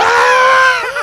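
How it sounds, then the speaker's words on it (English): A goat lets out a loud, sustained scream, one harsh drawn-out cry lasting about a second and ending in a falling wavering tail, close and alone. "The goat screaming noise."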